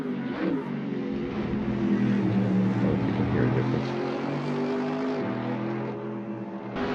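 A Mercedes-AMG race car in Assetto Corsa with the Fonsecker sound pack, its engine droning loud and steady at high revs with a rich harmonic growl, easing slightly near the end.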